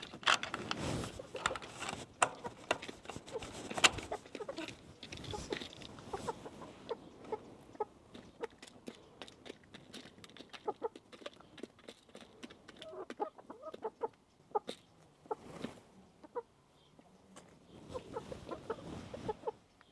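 Chickens cluck and chatter outdoors in irregular bursts nearby in Germany, busiest at the start and end, with occasional scuffs and clatter in between.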